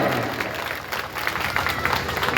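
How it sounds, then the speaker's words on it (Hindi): A crowd at a public gathering claps to welcome people, a steady moderate wash of applause that continues throughout the short clip, with a voice faintly audible underneath. "इसलिए आप उनको ताली बजा करके स्वागत करिए"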